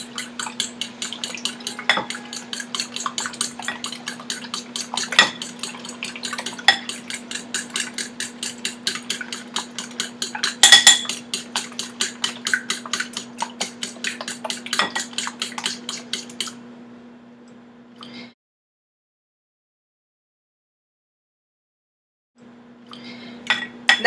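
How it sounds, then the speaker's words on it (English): A fork whisks eggs in a bowl, clinking rapidly and rhythmically against the sides, close and fairly loud, with a steady hum underneath and no talk. The beating stops, a short silence follows, then clinking briefly resumes. "I'm going to use a fork to whisk the eggs just because I don't want too much air to get in there."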